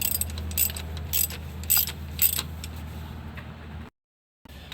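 A ratchet snugs down the starter bolts on a 2011–2024 Dodge Charger 3.6L, with bursts of quick clicking in short runs close up, then a brief silence.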